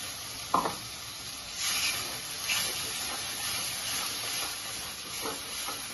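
Masala with pepper powder and water is stirred in a pan for paneer butter masala, a soft steady sizzle and hiss with a spatula tap early on and occasional scraping strokes, close and moderately quiet.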